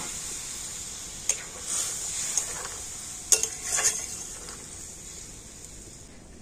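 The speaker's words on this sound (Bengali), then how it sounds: "এবার আমি ভেজে রাখা আলু আর কচুটা দিয়ে দিচ্ছি" Fried potatoes and taro tipped into a simmering taro curry in a pan: a few soft knocks and scraping stirs over a faint, steady sizzle.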